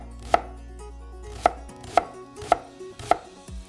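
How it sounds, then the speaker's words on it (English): Onions diced on a cutting board, the knife landing in five crisp, separate chops at a slightly uneven pace, close up and clear over near silence. "I am dicing the onions on the cutting board."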